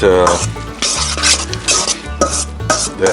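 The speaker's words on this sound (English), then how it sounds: "I'm gonna mix those in really, really well." Shallots stirred in a hot skillet for a crappie recipe: a loud, close sizzle with repeated scraping and clinking strokes of a utensil against the pan, coming in uneven bursts with no talking.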